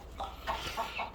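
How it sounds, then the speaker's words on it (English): Young meat turkeys in a juvenile enclosure give a few soft, short clucking peeps, four quick calls close by and fairly faint, with no talking. "You guys are going to be little meat turkeys."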